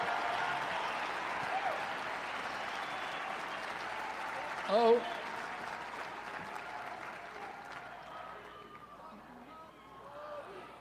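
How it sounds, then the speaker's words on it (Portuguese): Crowd at a political rally in Arizona applauds in a moderate, steady wash of clapping that gradually thins toward the end, with a brief louder burst midway and faint voices underneath. "Muito aplaudido pelo público."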